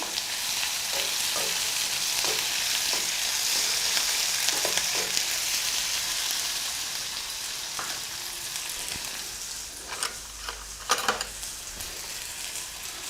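Onions with a little salt sautéing in a pan, a steady loud sizzle throughout, with a few stirring scrapes and knocks near the end.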